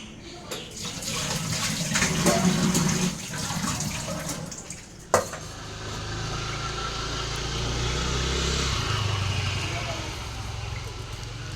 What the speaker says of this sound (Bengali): আগে যাই, স্নানটা করে আসি।